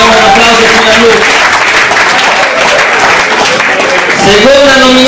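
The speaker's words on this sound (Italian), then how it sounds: "mandiamo un applauso fino a lui" Loud audience applause greets the first nominee at a volleyball awards ceremony, broadband clapping sustained for about five seconds, with a voice speaking over the start and again near the end.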